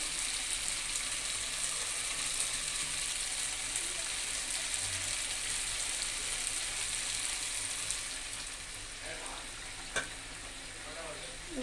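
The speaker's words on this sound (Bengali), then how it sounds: "এখন আমি একটু সামান্য পরিমাণ গরম পানি দিয়ে দেবো।" Potato-eggplant curry sizzling and frying in a pan as a little hot water is added, a steady soft hiss that eases near the end with a brief clink.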